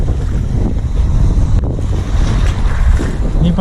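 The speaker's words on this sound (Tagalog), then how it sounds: "Low tide na mga master pero malakas pa rin ang alon" Strong waves break and wash onto a shore at low tide, a loud, continuous roar mixed with heavy wind rumble across the microphone.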